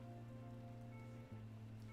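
Rain falling in the video game Necrobarista, a faint, even patter of drops on a surface over a steady low hum, with no voices.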